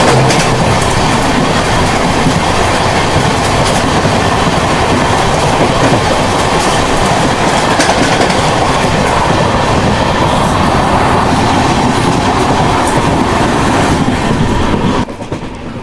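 A Sampark Kranti Express runs nonstop along the rails with a loud, dense, continuous rumble and rhythmic clickety-clack of wheels, close and steady throughout.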